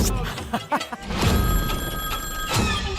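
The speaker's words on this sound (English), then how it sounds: "Phone's ringing." A telephone rings in a live-stream setting, its bell tone sounding over a muffled background with some thumps and brief voices.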